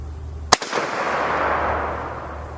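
A single sharp M1 carbine rifle shot fired from a five-round magazine at a downrange target, one loud crack with a short outdoor echo and low wind rumble trailing after, no voices.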